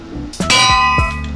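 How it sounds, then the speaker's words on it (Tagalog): A bell placed in the Minecraft video game gives a couple of bright metallic clangs that ring out over a faint background hum. "lagay na natin yung bell dito"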